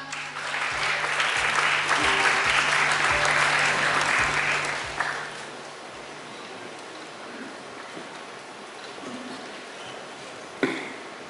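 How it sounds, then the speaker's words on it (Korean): Audience applause at an outdoor Liberation Day rally at City Hall, a dense crowd clapping loudly for about five seconds before it fades out, followed by quieter ambient sound. "큰 박수 부탁드립니다"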